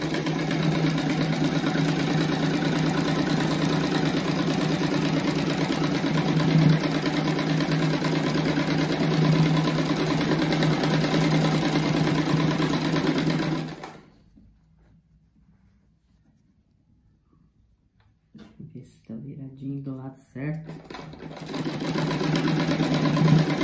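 A sewing machine stitches denim rug squares together in a steady, continuous mechanical whir, goes silent for a few seconds, then starts up again in short runs before resuming its even hum.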